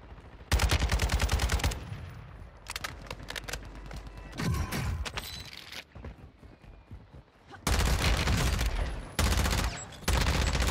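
Bursts of automatic gunfire in Warzone 2, including AK47 fire, crackle in loud volleys of rapid shots, some close and heavy, others thinner and more distant, separated by brief lulls across the whole stretch.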